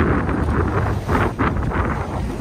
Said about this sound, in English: Winds have continued to increase. About 22 knots.